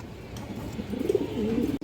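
A large pigeon coos in a continuous low, throaty warble, close and fairly clear, swelling in the second half before stopping abruptly.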